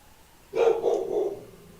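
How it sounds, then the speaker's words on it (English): A dog named Duke howls in response to passing sirens, one sustained, wavering cry beginning after a short quiet pause and lasting about a second, fairly close and alone. "sorry if you guys can hear my dog howling in the background"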